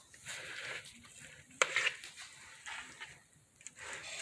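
Chicken suya pieces are tossed with seasoning in a bowl, giving faint soft rustling and mixing sounds with one sharper clink partway through, quiet and close.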